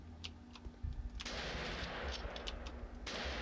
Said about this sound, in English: Yeah, there's one of the MG42 guys.